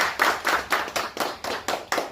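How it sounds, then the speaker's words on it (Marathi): An audience claps in steady rhythmic unison at a Shiv Sena appointment ceremony, about nine crisp, evenly spaced beats in quick succession, close and fairly loud with no talking. "जरा टाळ्या वाजवूया"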